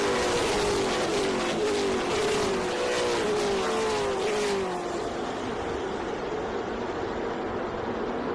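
A TA2 race car spins out at the bus stop on the Charlotte road course, its engine note sweeping and wavering loudly for a few seconds before settling into a steady racing drone.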